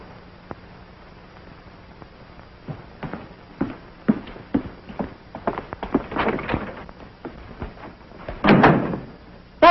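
A door in a 1952 film scene gives off scattered clicks and handling knocks with a few soft footstep-like thuds, building to a louder bang at the close in an otherwise quiet room.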